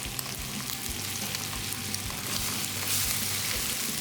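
Egg fried rice with green onion frying in a pan, a soft continuous sizzle with a faint steady crackle, close and fairly quiet, no voices.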